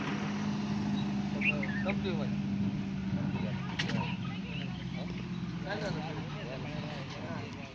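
A tractor engine drones steadily at a constant pitch while spreading soil in a field, people talking over it, with a few faint bird chirps in the background.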